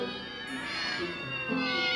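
Cartoon cats meowing in a high, wavering chorus, several voices overlapping in drawn-out cries over a soft backdrop, close and fairly loud for two seconds.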